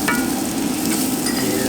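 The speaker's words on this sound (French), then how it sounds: "je vais mettre ma butternut à cuire dans le gras en fait que les lardons ont rendu" Butternut squash cooks in fat rendered from bacon lardons, giving a steady close sizzle with some stirring scrapes, unbroken and with no voices.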